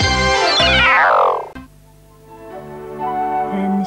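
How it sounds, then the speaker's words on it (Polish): A jealous cat gives a loud, drawn-out meow that slides downward, then goes quiet before softer, lower tonal sounds follow. "Ten kot jest zazdrosny."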